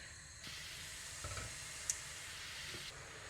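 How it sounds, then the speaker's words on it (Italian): Fresh escarole tipped dry into a pot over a lit gas flame, giving a steady hiss and sizzle with a few soft stirring clatters, close by and with no one talking. "accendiamo il gas e versiamo all'interno la scarola, così, senza acqua e senza niente"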